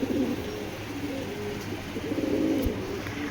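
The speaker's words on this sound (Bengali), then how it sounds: "আর এই দুইটা কবুতর দেখেন মাশাল্লাহ মাশাল্লাহ" Giribaz pigeons of the Palla line, a large male beside a smaller hen, give steady low cooing that continues through the clip, close by and moderately loud.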